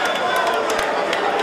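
Boxing arena crowd reacting after a fight is stopped, a dense wash of murmuring and shouting voices with scattered louder calls, while a commentator talks over it.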